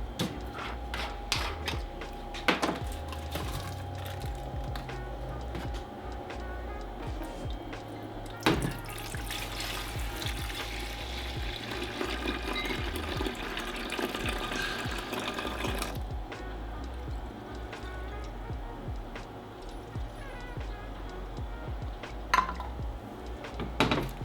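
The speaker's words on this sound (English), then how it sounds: "we're going to transfer this into here" Yeast culture liquid is poured into a container in one long, steady pour, with a light splashing stream and a few small knocks and clinks; no one speaks.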